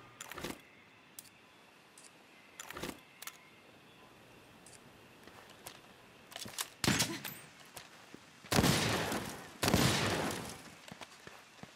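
A shotgun firing in Monster Hunter World sounds as several sharp, booming blasts spaced irregularly over a quiet background, with the later shots louder and more drawn out.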